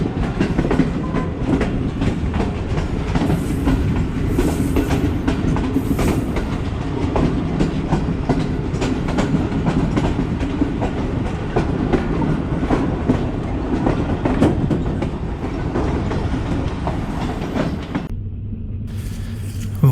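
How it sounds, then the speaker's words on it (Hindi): The Tezgam express train runs steadily from the loop line back onto the main line at Chichawatni, a continuous loud rumble with clickety-clack of wheels over the rails, fading abruptly near the end. "चिचावतनी की लूप लाइन से निकल के ट्रेन बल खाती हुई वापस मेन लाइन के ऊपर"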